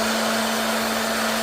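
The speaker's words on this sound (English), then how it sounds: "I'll take this off, get a hair dryer that I got" A hair dryer blows chaff off freshly roasted coffee beans, giving a loud, steady whooshing roar with a constant motor hum and no break across the short stretch.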